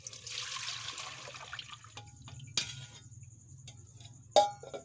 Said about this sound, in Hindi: चलिए सबसे पहले हम डालते हैं इसमें दूध